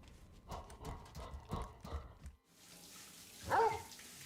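A plant dog in a video game gives one close, sharp bark after a run of rhythmic thudding steps and a short pause.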